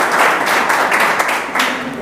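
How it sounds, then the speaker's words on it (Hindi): An audience claps throughout a classroom lecture, a dense, continuous patter of many hands, fairly loud and close. "ठोको ताली"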